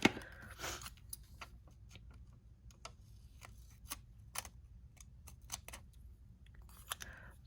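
Scissors snip through a planner sticker sheet in a series of short, crisp cuts at an irregular pace, close and quiet over a faint background hum, with no talking.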